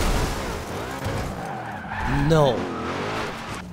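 Race cars in the video game Forza Horizon 2 roar and skid with tires squealing, engine pitch sweeping up and down, loud and close, while someone talks over the action.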